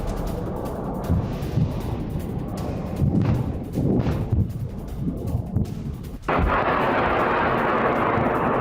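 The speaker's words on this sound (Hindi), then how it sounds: "हिजबुल्लाह ने देर रात इजराइल पर दागे हैं दर्जनों रॉकेट।" Hezbollah rockets strike Kiryat Shmona, Israel, at night. Several dull, distant booms rumble over a constant low roar, which then swells into a louder, steady rushing noise near the end.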